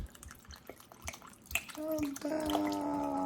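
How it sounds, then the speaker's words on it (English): Red wine is poured into a tomato, garlic, onion and herb sauce: light clatter and drips first, then a steady liquid trickle with a rising tone that grows louder and continues to the end. "Now we're going to take some red wine."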